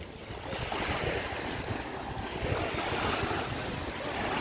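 Waves rolling onto the shore at Mostaganem beach in Algeria, heard as a steady, fairly close wash of surf mixed with gusting wind buffeting the microphone, with no one speaking.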